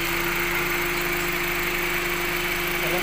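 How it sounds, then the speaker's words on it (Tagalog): A 1.6-liter 16-valve car engine idles quietly with the hood open, a steady even hum with a faint whine and no change in pitch, and no voices over it. "16 valve ang makina."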